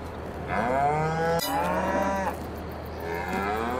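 Cattle mooing in Farming Simulator 22 on an Ohio farm with newborn calves: several long, loud, tonal moos overlap in close succession, one after another, with no talking.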